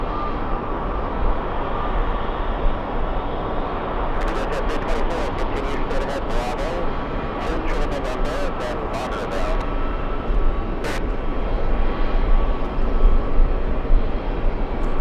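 Continuous jet rumble of a Delta Airlines Airbus A321 at JFK airport, a broad steady roar with bursts of clicking noise partway through, while voices speak over it.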